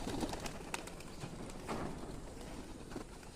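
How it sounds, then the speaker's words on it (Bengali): Pigeons burst out of their coop on a rainy morning, a soft fluttering flurry of wingbeats with a few sharp flaps and faint cooing, fairly close and with no talk. "এখন আমার পায়রাগুলো ছেড়ে দিচ্ছি, দেখুন"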